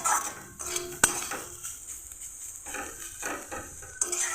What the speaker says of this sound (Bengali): আর কিছুক্ষণ ধরে এটাকে নেড়ে আমি ভেজে নেব